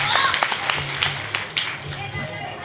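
An audience at a Hindi poetry event in Madhya Pradesh claps in a short burst of applause, scattered hand claps running throughout.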